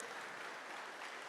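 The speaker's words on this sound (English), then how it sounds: "I think we need to clap hands for ourselves as a country" Short burst of steady, dense applause from a crowd at a national science week event in Eswatini, loud and continuous throughout with no voices over it.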